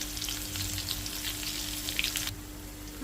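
Green chillies, asafoetida and curry leaves fry in hot oil with a steady, close crackling sizzle that eases off near the end.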